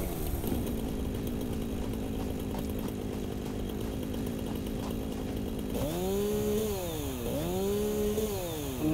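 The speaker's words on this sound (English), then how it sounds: "so now we should be able to use the chainsaw" A chainsaw in the video game Satisfactory runs steadily at a loud, close idle, then revs up twice in rising and falling sweeps near the end.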